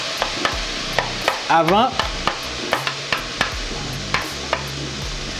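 Onion stirred in a hot pan, a soft sizzle under repeated sharp scrapes and taps of the spoon at an uneven rhythm, with a brief word spoken near the start.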